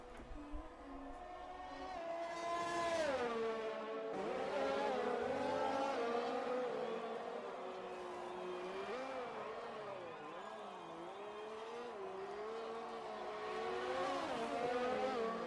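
Race car in a racing video game on a track with a tricky final chicane: a continuous engine whine rising and falling in pitch through gear changes and braking, with faint tire noise, steady and moderately loud, with no one talking over it.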